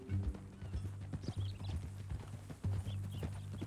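Horse hooves clip-clopping in the Red Dead Redemption video game, a steady run of close, moderately loud hoof strikes over a low droning game soundscape, with no talk.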